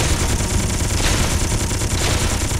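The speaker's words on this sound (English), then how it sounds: "Rocket launcher." Rocket launcher fire in the space video game Space Engineers, a dense sustained roar of rapid blasts with a couple of sharp whooshing launches cutting through, loud and continuous throughout.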